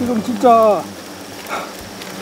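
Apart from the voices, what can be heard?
many Asian giant hornets buzzing in a container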